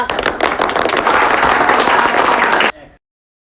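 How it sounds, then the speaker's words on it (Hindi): Loud, dense applause from a studio audience welcoming a guest on a Bhojpuri comedy spoof of the quiz show Kaun Banega Crorepati, sustained for almost three seconds before cutting off abruptly. "तो जोरदार तालियों और गालियों से स्वागत कीजिए"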